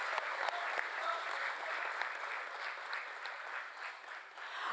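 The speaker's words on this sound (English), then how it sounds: "Let us have a resounding of claps, ladies and gentlemen." An audience at a ceremony applauds in a steady, dense wash of clapping that holds at an even level throughout, with no voices standing out.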